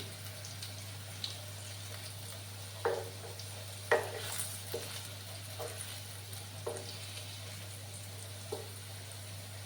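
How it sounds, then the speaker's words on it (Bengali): Potatoes frying in a pan for aloo katli, a low steady sizzle under a constant hum, broken by a few soft stirring scrapes and clinks spread across the clip. "আর একটু সময় আমি আলুগুলোকে ফ্রাই করে নেব"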